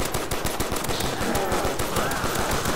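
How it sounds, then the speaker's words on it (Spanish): Rapid, continuous automatic gunfire in Call of Duty: World at War zombies on a custom map, loud and close with shots packed tightly together throughout. "hay que disparar lo máximo posible, porque te dan un montón de puntazos"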